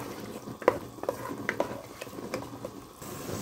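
A spoon scrapes and taps as kishk is stirred in a pan with its fried onion topping, giving quiet, irregular clicks over a faint sizzle.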